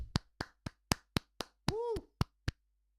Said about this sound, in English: just a little bit clapping for you guys.